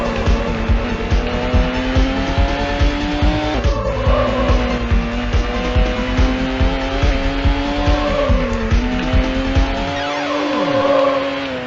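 A Porsche races in Need for Speed Hot Pursuit 2 (2002) on PC, its engine droning loudly with pitch shifts and repeated tire squeals and skids through corners.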